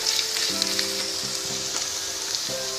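Onion frying in a pan for a tadka gives a steady, close sizzle and crackle, with a faint tonal hum drifting in and out underneath.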